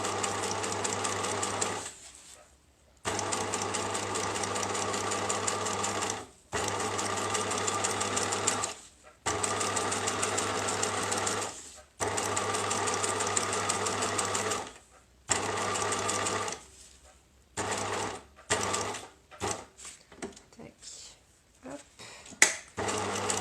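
A sewing machine running in long bursts while stitching a seam on a bicycle frame bag, steady rapid whirring with short pauses and slower stop-start stitches toward the end, close and loud.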